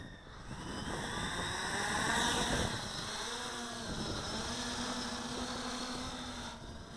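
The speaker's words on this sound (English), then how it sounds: "we'll go ahead and give her a flight and get it out of my shadow here so you can see it take off" A small XK Air Dancer X350 3D RC airplane with 50-50 pitch props takes off, its electric motor whine rising and shifting in pitch as it climbs away, fairly faint and heard outdoors without talk.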